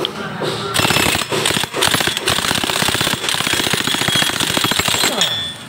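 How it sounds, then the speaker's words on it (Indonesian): An impact wrench loosens bolts on the CVT cover of a Mio J scooter: a loud, close, rapid hammering rattle that runs almost continuously for about five seconds with short pauses near the start. "Maaf, kita pakai impact soalnya biar cepet."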